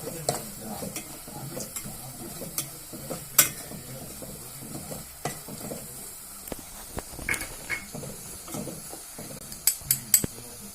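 Chili powder sautés in hot oil for a potato pickle, a soft sizzle with repeated scraping stirs and a few sharp clinks of a spoon against the pan, close and without talk.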